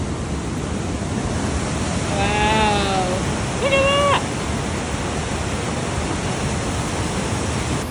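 Rushing water of a stream beside a trail in Cilento, a loud, continuous broadband roar that fills the whole stretch, with a brief spoken exclamation over it partway through.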